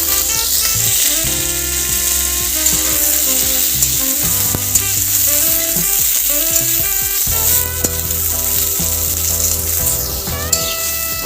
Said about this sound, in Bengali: এটা আমি এবার তেলের মধ্যে ছেড়ে দেবো করলাটা একটু ভেজে নেবো